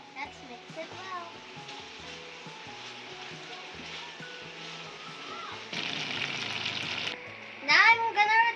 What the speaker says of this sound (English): Now I'm gonna return the veggies to the pan. And let's stir everything together.